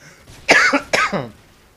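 A single rough cough in two quick bursts, close and fairly loud, with no speech around it.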